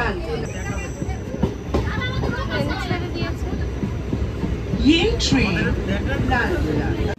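Steady rumble and rattle of a moving train carriage, with a constant low drone, clacking bursts and a murmur of voices in the background.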